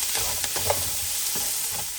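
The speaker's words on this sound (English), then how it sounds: "That's frying away really nicely." Close sizzling of onion, garlic, chilli and ginger paste frying in a hot pan for a Fiji-style chicken curry, a continuous crackle with occasional stirring scrapes, no voices.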